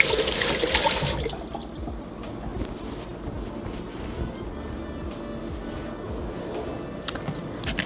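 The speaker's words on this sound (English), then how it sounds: "Let me just wash my hands." Tap water runs for hand washing in a home kitchen, giving a close, brief gush that fades into a softer, steady trickle with faint clatter behind it.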